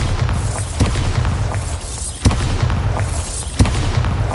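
Bombarda spells explode in the Hogwarts Legacy video game, three sharp, heavy booms spaced about a second and a half apart over a continuous low rumble.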